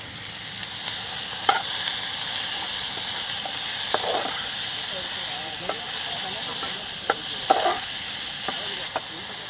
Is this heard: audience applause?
no